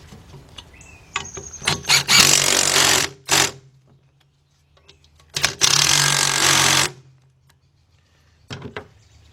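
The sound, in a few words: tightening bolts on truck rear brake assembly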